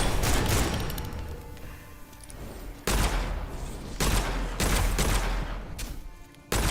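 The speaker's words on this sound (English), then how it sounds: "That's how this shotgun works." Shotgun blasts in the first-person shooter Witchfire, several loud booming shots spaced a second or so apart, each with a sharp attack and a lingering rumbling tail amid busy game noise.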